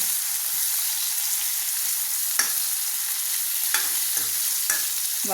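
Soya and radish stir-fry in a hot pan with a constant loud sizzle, broken by a few sharp scraping strokes of a spoon against the pan.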